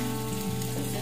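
Vermicelli fries in oil for upma, giving a continuous, even crackling sizzle, close and moderately loud, with a faint low hum beneath and no voices.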